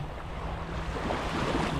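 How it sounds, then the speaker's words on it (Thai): Cold winter sea at Half Moon Bay, Melbourne, with waves washing over pebbles, a steady rushing surf mixed with wind noise on the microphone, close and moderately loud without pause. "นี่ฮะ น้ำทะเล"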